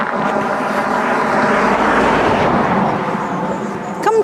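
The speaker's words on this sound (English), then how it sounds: "There's an actual car coming down this country lane." A car engine rumbles steadily close by, a continuous droning whoosh as the vehicle passes fast along a country lane near Bristol.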